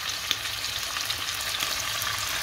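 Moroccan-style liver frying in hot oil in a pan while it is turned, giving a steady, dense, close sizzle that crackles evenly throughout, with no voices.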